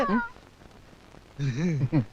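A cat meows close by, once briefly at the start and then twice more after a quiet pause.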